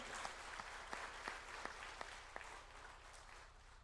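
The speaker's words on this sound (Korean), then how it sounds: "그분에 대해서도 박수 한번 해주시기 바랍니다." An audience at a gathering of national elders in a hotel ballroom claps in a faint, distant round of applause, with a few sharper individual claps standing out.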